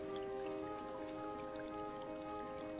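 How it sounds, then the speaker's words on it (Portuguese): Rain falls steadily in a soft, continuous patter of drops, with faint tonal hum in the background and no voices. "E é assim, mais ou menos, que a chuva se forma."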